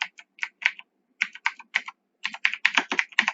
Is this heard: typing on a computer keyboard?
yes